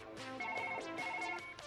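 A phone rings inside the surgery game Surgeon Simulator, a bright melodic ringtone repeating its short tune over roughly two seconds, clear and close with no voices.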